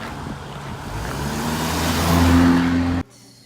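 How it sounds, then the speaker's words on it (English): A Honda car speeds past with a broad rising road roar and engine hum that swells toward its peak, then cuts off abruptly, heard outdoors on a fall street. "Oops, this Honda's going fast."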